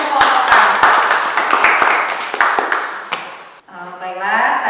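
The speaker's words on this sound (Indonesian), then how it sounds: "Tepuk tangan untuk kelompok A." Group A receives a short burst of applause from a classroom group, brisk close clapping for about three seconds, then a voice begins speaking.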